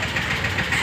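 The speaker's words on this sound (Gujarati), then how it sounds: "ટ્રેક્ટરનો અવાજ આવે" A tractor engine running with a steady low rumble and chugging throb, close and loud, in a short unbroken stretch without speech.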